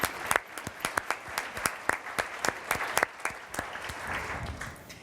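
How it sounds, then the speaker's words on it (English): An audience applauds after a keynote at an education conference, giving a round of claps that starts dense and quick, then thins into a softer, fading patter over the last second or two. "We have to give her a round of applause"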